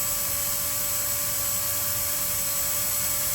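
A drill spins 26-gauge wire to twist a coil, giving a steady, continuous high-pitched motor whine that holds level throughout.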